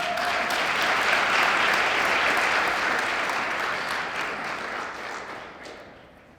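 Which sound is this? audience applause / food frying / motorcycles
audience applause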